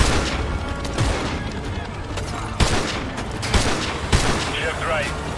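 Sniper rifle fire in Call of Duty: Modern Warfare 2 Remastered: a few sharp, loud shots and impacts over a dense battlefield din of distant gunfire, with radio voices talking throughout.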